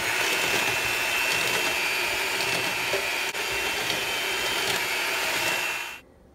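An electric hand mixer on speed 2.5 whips dalgona coffee in a bowl, a steady, loud, continuous motor whir with slight rattle that runs unbroken for about six seconds before cutting off abruptly.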